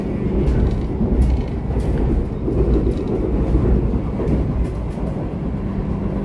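Asrayu passenger train rolling along the rails near Bojong, a steady loud low rumble with faint wheel clatter and wind buffeting throughout, no voices.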